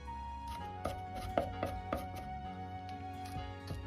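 Ginger, smashed and then minced with a knife on a cutting board, gives a run of sharp, close chops in an uneven rhythm over a steady low kitchen hum, with no one speaking.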